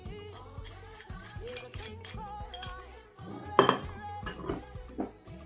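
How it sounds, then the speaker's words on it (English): Plantain puff batter being mixed in a bowl, with rhythmic clinks and scrapes of a utensil against the bowl and a few sharper knocks, close and clear with no voices. "Okay, I'll mix it thoroughly"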